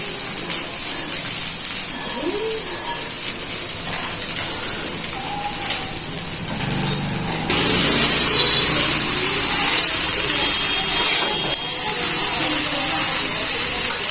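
Vegetables for chow mein sizzle loudly in a hot pan, a constant hissing crackle that surges louder partway through as more are added, with occasional scraping from stirring and a faint voice.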